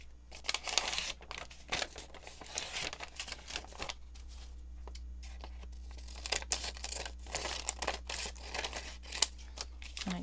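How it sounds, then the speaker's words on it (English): Paper being folded and creased by hand for a junk journal envelope pocket, close crinkling and rustling in irregular bursts with brief pauses between handling sounds. "And then this one I'm going to fold over the same way."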